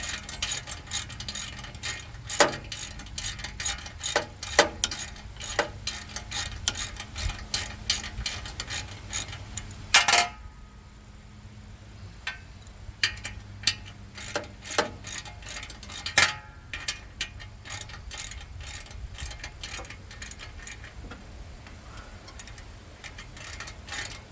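Hand ratchet turning a nut in a cramped spot on a Kubota L2501 tractor, heard as steady rapid clicking in short repeated strokes, close and fairly quiet, with a brief pause partway through and no talking.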